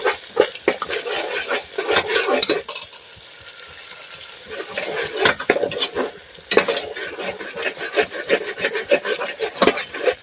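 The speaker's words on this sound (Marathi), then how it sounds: "दोन ते तीन मिनिट छान असं ढवळत राहायचं छान असं मिक्स करायचं आहे" Eggplant masala being stirred in an open pressure cooker, a spoon scraping and rasping against the metal in quick repeated strokes over a soft sizzle, close up, with a short quieter pause midway; no talking.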